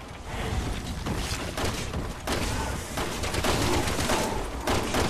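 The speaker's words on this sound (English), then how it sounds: "You hear how fast I'm shooting those damn things?" Rapid gunfire in Resident Evil 6, a dense, continuous volley of shots with thuds and mechanical clatter filling the whole stretch, loud and close, with no voices over it.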